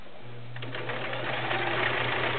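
A 1941 Kenmore convertible all-metal sewing machine runs a stretch stitch, its steady mechanical whir and rapid needle rhythm continuous and close for a couple of seconds, with no talking.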